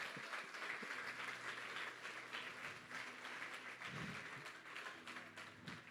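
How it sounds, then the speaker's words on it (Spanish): A church congregation applauds the preaching pastor in a steady, faint wash of clapping that lasts throughout, with a low hum and a brief murmur underneath. "Dele un aplauso a Agustín."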